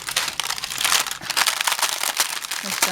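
Parchment paper folded over by hand to loosen dried onion pieces, giving dense, close crinkling and crackling throughout, while a person talks over it.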